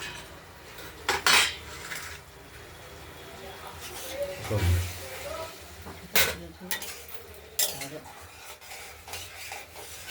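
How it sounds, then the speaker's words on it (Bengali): Spice paste being stirred and sautéed in a pan for a potato-tomato curry with fried paneer fritters, with scraping metal spoon strokes and clinks against the pan in irregular bursts over a soft background. "এবার মশলাটা কষাতে থাকবো।"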